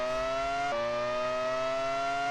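Droning racing car engines from the PS1 game Monaco Grand Prix Racing Simulation 2 hold a steady, buzzy whine, with one sudden pitch jump early on, like a gear change.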